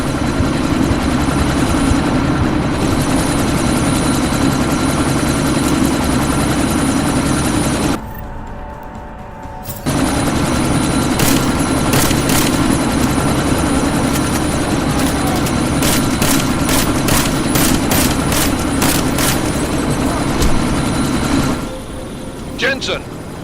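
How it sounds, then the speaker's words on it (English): A helicopter in Deus Ex: Mankind Divided roars loudly and continuously as it prepares to lift off, a heavy engine and rotor drone that briefly drops out, with sharp gunshot bursts and a voice over it. "That chopper's about to take off!"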